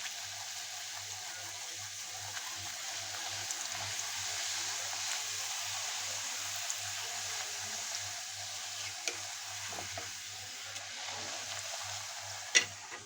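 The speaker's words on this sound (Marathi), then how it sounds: "या सगळ्या पुऱ्या लाटून घ्यायच्या आणि तेलामध्ये तळून घ्यायच्या" Sweet pumpkin puris deep frying in hot oil give a continuous soft, even bubbling sizzle, close but quiet, with a low steady hum underneath and a single sharp clink near the end.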